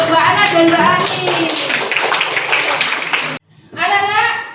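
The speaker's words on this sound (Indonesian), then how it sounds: "tepuk tangan buat temanku, Mbak Ana dan Mbak Ani" Children in a classroom clap together for two classmates, a dense burst of clapping mixed with young voices and chatter, briefly cutting out before resuming with a voice over it.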